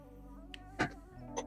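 A cat knocking objects down in a room: a sharp clattering crash, then a couple of lighter knocks and taps, heard close over a steady low background hum.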